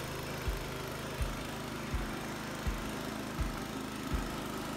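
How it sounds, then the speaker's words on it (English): A Harbor Freight Predator small engine runs steadily on a log splitter, with the throttle held open and a loud, even drone that thumps regularly about every three quarters of a second. "The engine seems to be running fine"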